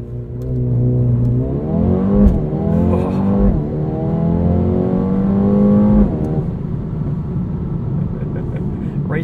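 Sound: Mercedes-AMG A35 sedan accelerating hard off the line, traction control off

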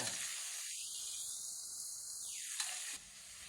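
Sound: pork stir-frying in a pan

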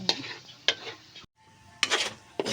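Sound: stirring biko rice cake with latik in a pan

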